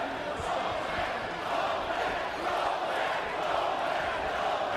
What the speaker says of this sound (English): the crowd chanting Poland